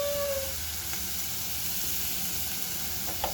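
Chopped onion frying in a pan while a sandwich is being made, a steady close sizzle with a light clink near the end.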